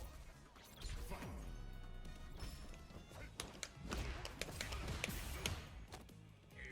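Street Fighter 6 match against a Terry, with a dense run of loud, punchy hit and smash impacts layered over game music and effects, continuing steadily for several seconds without a break.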